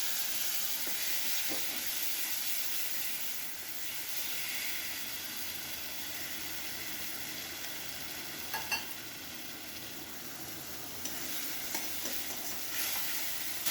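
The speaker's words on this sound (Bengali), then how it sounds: "মশলাটা আমি একটু ভালো করে কষিয়ে নেব" Spice paste sweetened with jaggery (gur) sautés in a pan for a chana dal curry: a constant low sizzle and hiss runs throughout, broken by occasional brief clinks and scrapes of a stirring spoon. No one talks.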